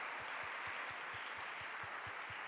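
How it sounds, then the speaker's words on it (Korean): A congregation at a Sunday morning service at Handong University church in Korea gives a welcoming round of applause for visiting parents and families. The soft, diffuse clapping sounds distant and forms a steady wash of sound throughout. "우리 따뜻한 또 환영의 박수 한번 보내겠습니다"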